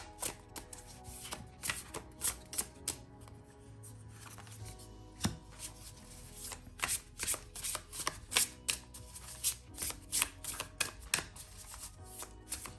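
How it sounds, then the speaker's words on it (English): Tarot cards are shuffled in repeated quick riffles and soft slaps, a close, crisp rhythmic flutter of bursts with short gaps, alone without talk. "I personally do, and I also like the noise of the cards."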